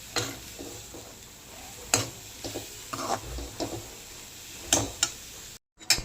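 Grated coconut dry-roasting in a wok for coconut vadi, stirred with a spatula: a steady faint hiss broken by repeated scraping strokes and light clinks, close and unaccompanied by speech.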